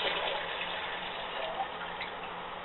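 Tap water at about 60 degrees pours steadily into an IMUSA grease pot, a continuous close splashing gush at even loudness with no talking.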